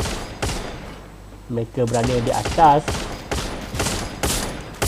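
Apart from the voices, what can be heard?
gunfire in a video game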